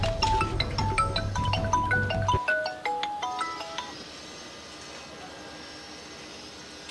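A mobile phone plays a melodic ringtone of bright, stepping electronic notes at steady volume for a few seconds. The ringing then stops abruptly, and a faint lingering tone trails off into quiet room noise.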